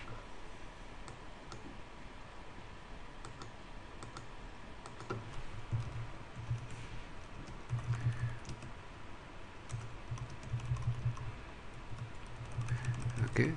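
Steady typing on a computer keyboard while sketching in notepad, a close, continuous patter of key clicks with small bursts of faster strokes, no talking.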